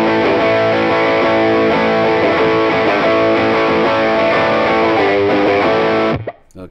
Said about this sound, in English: I will play with the overdrive sound first.